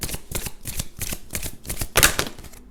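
Tarot cards being shuffled for a reading, a quick run of crisp riffling bursts in a steady rhythm, close and clear with no talk over it.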